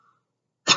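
A single sharp cough bursts out near the end, loud and close, after a brief faint tone and near silence.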